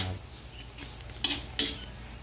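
A utensil knocks twice against a pan while mushrooms are sautéed for spaghetti: two sharp metallic clanks about a third of a second apart over a quiet kitchen background.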